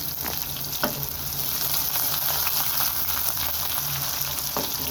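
Chopped onion and garlic fry in a pan with an even, close sizzle and a few sharp utensil knocks against the pan, without any talking.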